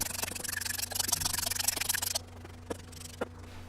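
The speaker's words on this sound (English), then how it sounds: "So we just put in some flour and we're going to stir it up" Spoon stirring funnel cake batter with added flour in a bowl, a quiet rhythmic scraping and rubbing that runs steadily for about two seconds, then fades to a few faint taps.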